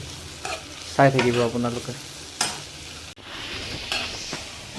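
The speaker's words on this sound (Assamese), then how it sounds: "ইয়াত পিঁয়াজ আৰু কৰি পাতা দি আছোঁ, দি পেলাই ভাজি আছোঁ" Onions and curry leaves fry and get stirred in a pan, a steady close sizzle with scraping stirs throughout, while a voice speaks briefly over it.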